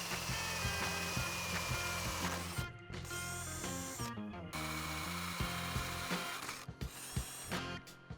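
A power drill bores a hole for a clamp in a Polaris RZR XP 1000 high-clearance A-arm, a close, loud whine with brief stops and restarts.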